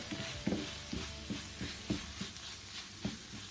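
Scrambled tofu cooking in a pan, with a steady soft sizzle broken by rhythmic scraping stir strokes about twice a second, close and fairly quiet.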